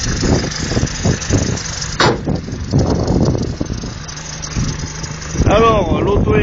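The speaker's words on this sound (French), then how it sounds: "ça serait un galet tendeur qui commence à couiner" A Mercedes 220D diesel engine idles nearby, its tensioner pulley beginning to squeak, while someone talks over the running engine and a brief whine rises near the end.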